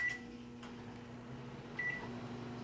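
A microwave oven hums quietly at low level while heating a spinach dip, with a brief beep at the start and another near the end, and no talking.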